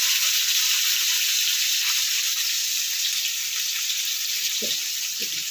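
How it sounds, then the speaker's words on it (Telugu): Fish frying in a pan of hot oil, a loud, continuous hissing sizzle that holds steady throughout with a couple of faint knocks near the end. "బాగా హీట్ ఎక్కాక ఫిష్ని ఫ్రై చేసుకుందాం అండి"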